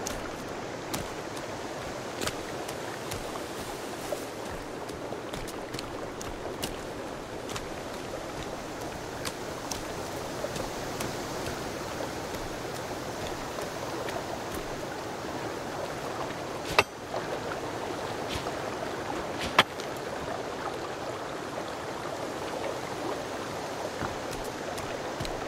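Steady rushing waterfall in the survival video game Sons of the Forest, a constant broadband wash of falling water with a couple of faint clicks over it.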